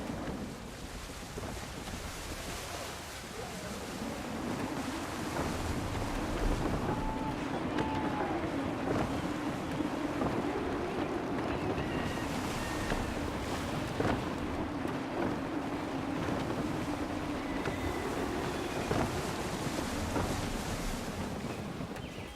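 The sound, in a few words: sailing ship in gusty wind and waves, Assassin's Creed III video game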